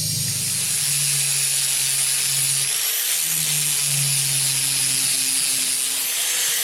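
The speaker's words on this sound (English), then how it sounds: "Another thing we can try doing is cutting some flats in it with the grinder" Angle grinder cutting flats into a steel implement lift rod for a Simplicity Sunstar mower, a steady loud whining drone with shifting pitch that dips briefly midway, running continuously.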